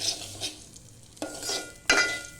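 Semolina roasting in ghee on low heat, soft intermittent scraping of a spoon stirring the dry grains in the pan, with a few sharper knocks against the metal, close and without talk.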